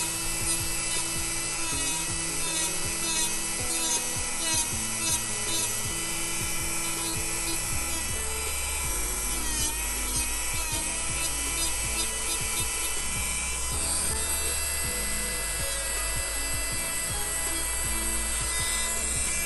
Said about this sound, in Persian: زمانی که میخواید سر ناخن رو سوهان کشی کنید سوهانتون رو کاملا صاف نگه میدارید، زاویه عمود و سوهان کشی میکنید.